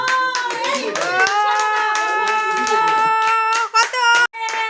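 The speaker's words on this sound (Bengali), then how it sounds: "হাততালি দাও সবাই, হাততালি দাও।" At a family celebration game, a group claps hands under cheerful talk and singing tones. The claps are irregular and moderately close, partly masked by the voices.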